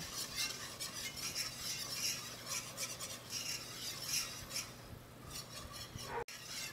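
Gravy being stirred steadily in a pan on the stove, a continuous close scraping and swishing of the utensil against the pan with faint sizzling beneath, alone with no talk.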